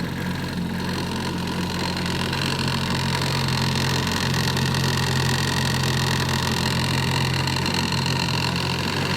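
A fully restored 1955 Evinrude 7.5 horsepower outboard motor running on a bayou in Louisiana, a steady mid-pitched engine drone with constant loudness, close and uninterrupted, no voices.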